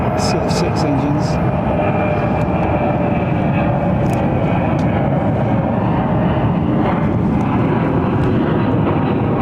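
A six-engine heavy jet airliner departs Heathrow Airport with a loud, whiny engine roar held steady throughout, while someone talks over it.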